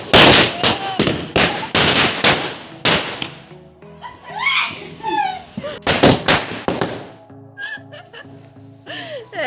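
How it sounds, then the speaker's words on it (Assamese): Firecrackers bursting during a rainy Diwali, with loud sharp bangs in quick clusters close by, separated by lulls where people laugh and talk. "এতিয়া আমাৰ খুৰীয়ে পূৰা ফটকা ফুটাব"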